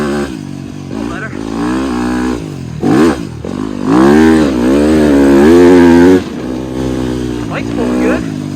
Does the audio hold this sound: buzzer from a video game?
no